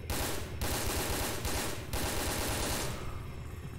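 Rapid, sustained machine-gun fire in the video game Resident Evil Dead Aim, loud dense bursts with brief gaps, no voices.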